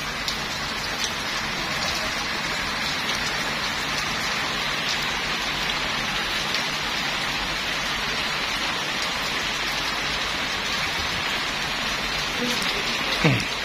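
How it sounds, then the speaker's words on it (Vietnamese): Steady rain pours down in a dense, even hiss that holds at a moderate loudness throughout, with no other sounds standing out. "Thôi ta lại ngắm trời mưa rồi chứ làm nào."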